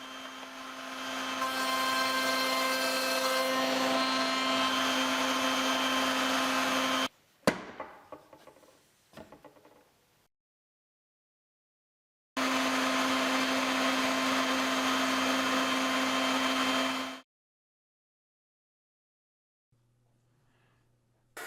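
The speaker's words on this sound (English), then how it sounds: "you can use a router table like I'm doing here" A router table cuts a recess into a knife handle scale with a high, whining motor hum. It runs in two long bursts, with rough clattering as the first one winds down and near silence between them.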